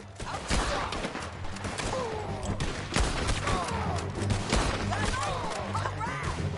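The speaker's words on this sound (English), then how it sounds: "Yes, we're shooting." Rapid volleys of gunfire in the Western shooter Red Dead Redemption 2, loud and dense, sharp shots crackling in overlapping bursts with shouted voices mixed in throughout.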